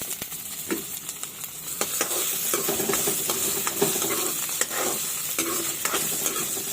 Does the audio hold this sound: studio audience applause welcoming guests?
no